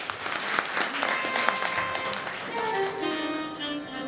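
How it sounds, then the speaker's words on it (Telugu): An audience at a temple idol-installation festival claps together in a dense patter of applause, which fades as a tonal, ringing sound rises toward the end. "ఈ కమిటీ వారికి ఒకసారి గట్టిగా చప్పట్లు కొట్టండి అమ్మా"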